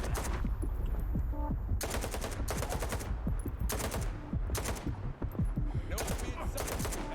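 Video game gunfire from Stalker 2 rattles in sustained automatic bursts, loud sprays of shots separated by short pauses, with a voice talking faintly beneath them.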